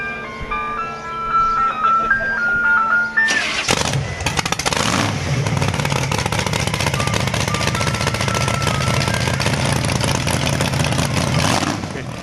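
A loud diesel build engine cranks and starts after a few seconds of musical tones, then runs with a heavy, rough, rattling roar that holds steady until the end.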